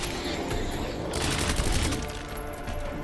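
Gunshots in the Resident Evil 2 video game, a fairly quiet, continuous rattle of rapid fire that intensifies in the middle and fades slightly toward the end.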